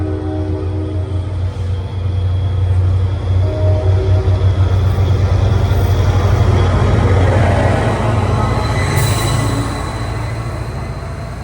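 An NJT train pushed by GP40FH-2 diesel locomotive 4900 rumbles past up close, a loud, continuous roar of engine and rolling wheels with faint squeals, swelling midway and easing slightly toward the end.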